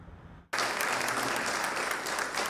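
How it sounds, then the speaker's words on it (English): A crowd at the Capitol bursts into loud, sustained applause for the governor's executive action on DEI after a quiet moment, then keeps clapping steadily to the end. "Applause greeting the governor's executive action on DEI at the Capitol on Wednesday."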